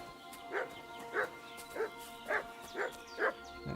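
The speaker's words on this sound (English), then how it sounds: "That is a dog." Dogs barking in the medieval game Kingdom Come: Deliverance 2, six evenly spaced woofs at moderate distance over a steady ambient hum.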